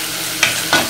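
Tomato paste and pepper paste sautéing in a pan for bean pilaki, a soft steady sizzle broken by two brief scraping stirs of a utensil.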